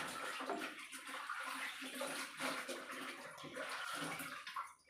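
Pieces of fish drop into a simmering tamarind fish curry, meen puli, with wet splashes and bubbling. The sloshing water sounds are close and fairly quiet, continuing without pause for about five seconds.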